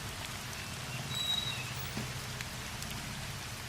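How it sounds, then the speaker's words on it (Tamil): Heavy rain pours down steadily in a close, even hiss, with a low rumble of water underneath and a few faint scattered drips. "மழை இந்த கொட்டுது."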